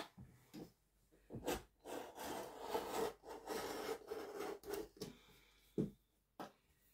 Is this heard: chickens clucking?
no